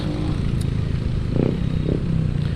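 Two motorcycles riding together on a road trip in Morong, Rizal, giving a steady, close engine rumble with faint rattling and no pauses.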